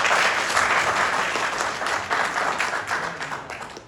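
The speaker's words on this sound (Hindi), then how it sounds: "जोरदार ताली बजाएं।" Audience at a political party gathering in Ghaziabad applauding loudly and steadily, a dense wash of many hands clapping close by, with no talk over it.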